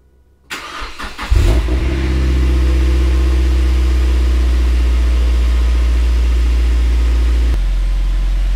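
A Mazda MX-5 NC engine cranks briefly with a few rough turns, catches loudly, then settles into a steady, close idle with a slight drop in level near the end, and no one speaks.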